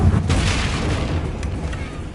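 Confringo fire spell in the Hogwarts Legacy video game, a single deep booming blast at the start that rumbles and decays over about two seconds.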